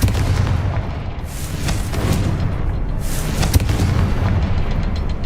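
Casting the Confringo fire spell in Hogwarts Legacy sets off a loud, continuous rumbling blast with deep booming low end, sustained at full strength throughout with a sharp crack near the middle.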